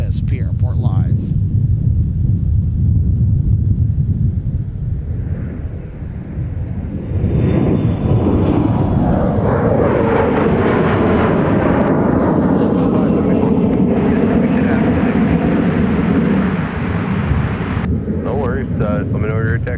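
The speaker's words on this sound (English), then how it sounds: "then we got a 757 that's going to be departing" A Boeing 757 jet departs, its deep engine roar building and swelling loud, then sustaining as a rumbling thrust with a rising whine before easing slightly, heard from a distance outdoors.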